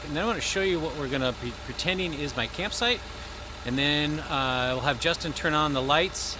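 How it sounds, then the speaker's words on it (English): Someone talks over the low, steady rumble of a truck engine idling nearby. "You can probably hear the truck behind me."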